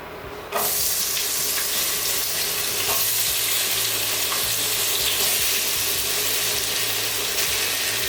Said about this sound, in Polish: oliwa nam się już rozgrzała, więc teraz przerzucam ziemniaki do garnka